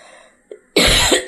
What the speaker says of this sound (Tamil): தொண்டை கட்டியிருக்கு, இருமல் வந்துட்டு.